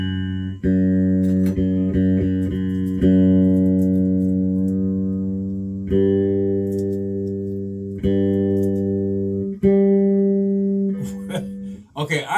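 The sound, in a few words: bass guitar being tuned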